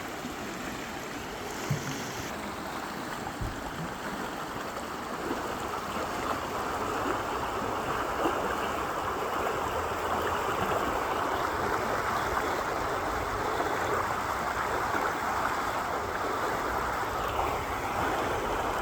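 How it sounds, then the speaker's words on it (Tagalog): A cold riverside in Germany gives a steady, broad wash of flowing water that rushes on evenly and alone for the whole stretch, with no voices over it. "Ito yung tabing ilog ng Germany"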